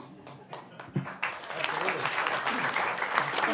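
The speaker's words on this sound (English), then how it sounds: "That does deserve applause." Conference audience breaks into applause after a few scattered early claps, swelling into a dense, sustained round of clapping that fills the room.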